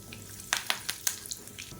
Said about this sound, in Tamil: இப்போ சோம்பு பொரிய ஆரம்பிக்குது